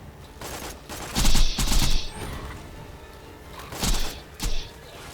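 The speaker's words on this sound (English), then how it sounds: "Blue Hyperion shotgun." Blue Hyperion shotgun firing in the video game Borderlands 2, two clusters of rapid blasts with quieter game ambience between them.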